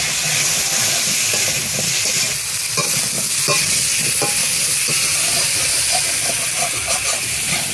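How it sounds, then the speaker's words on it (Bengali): Potatoes and green banana fry in a pan with turmeric and salt, a steady close sizzle and hiss running throughout, broken by scattered scraping stirs of a spatula; no one talks. "আর আলু ভালোভাবে ভাজা হয়ে গেছে,"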